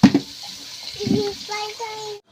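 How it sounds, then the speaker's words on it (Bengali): Water is poured into a pot of browned chicken curry as it cooks, giving a short, close splash and sizzle while voices talk over it. "এবার জল ঢেলে দিচ্ছি"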